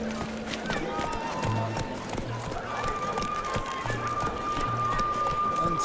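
Roach, a horse in The Witcher 3: Blood and Wine, gallops with steady rhythmic hoofbeats under a game soundscape, a whinny-like tone near the end, while a player talks over it.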